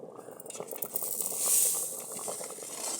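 Milk kheer with dates simmering in a pot: a soft bubbling hiss with a faint scrape of stirring near the start, fairly quiet and close, with no talk.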